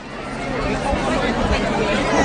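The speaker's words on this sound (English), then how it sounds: "Now I want you to listen to the crowds for Catherine and William." A large outdoor crowd greets Catherine and William with steady, loud chatter and cheering, a dense hubbub that holds close and continuous throughout, with no single voice standing out.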